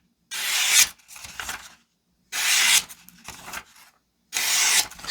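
A 3.8-inch paring knife slices through mushrooms in three close, firm strokes, each a short scraping rasp followed by a softer cut and pause, with no talking.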